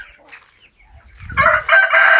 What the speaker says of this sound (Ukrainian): Тут коло неї ще кури добре наїдаються.